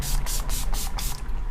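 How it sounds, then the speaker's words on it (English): Urban Decay setting spray is misted onto a face in about five quick, close bursts, each a sharp airy hiss with brief gaps between them. "Now before I put on my mascara, I'm going to use that spray again from Urban Decay."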